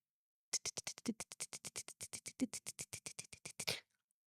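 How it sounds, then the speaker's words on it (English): A rapid, irregular series of sharp ticks and taps as a cloud of mayflies pelts a moving car, about two dozen hits in a few seconds before stopping. "the cloud of mayflies that we are just driving through that are pelting the car"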